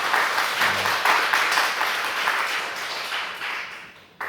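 A church congregation applauds during a Sunday afternoon service, a steady wash of clapping from many hands that swells near the start and tapers off toward the end.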